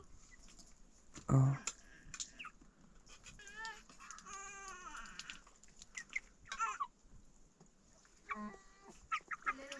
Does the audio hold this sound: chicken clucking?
yes